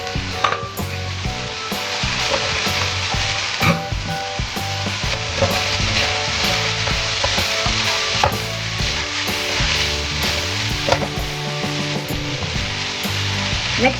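Golden brown chicken pieces fry in a hot pan, a loud steady sizzle with crackling pops and occasional scraping stirs throughout.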